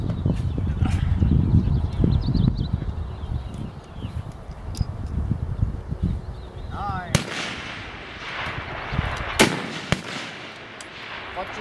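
Long-range rifle fire at an outdoor shooting range, a sharp crack followed by a second loud shot later, with people talking in the background.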